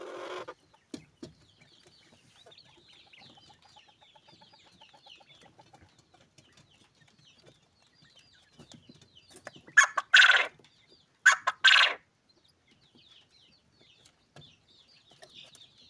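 Day-old chicks and quails in a pen chirp and peep steadily at a low level, with two loud, close bursts of clucking or calling near the end.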